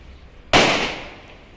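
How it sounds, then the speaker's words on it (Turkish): A single sharp bang from a paper firecracker (torpil) goes off after a quiet moment, loud and close, with a short crackling decay trailing away. "fitil ateşlendi ve daha hızlı, daha gür bir sesle patladı"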